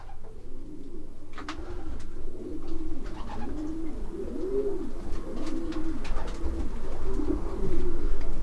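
Racing pigeons cooing close by in a pigeon loft, repeated rhythmic coos overlapping steadily, with faint chirps and rustling in the background.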